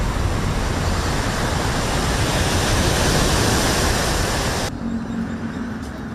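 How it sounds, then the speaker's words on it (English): Hurricane Eric's Category 3 winds make a loud, steady broadband roar that churns like surf for about five seconds, then abruptly drops to a lower, duller rumble. "Hear the sound of that wind right there."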